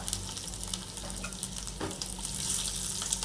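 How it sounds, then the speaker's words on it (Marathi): Cumin and garlic sizzling in hot oil for bhendi bhaji, a dense, continuous frying hiss heard close up and loud, steady throughout with no talking. "ऑइल गरम झालेलं आहे, तर यामध्ये मी जिरं ॲड करते। त्यानंतर मी लसूण ॲड करते।"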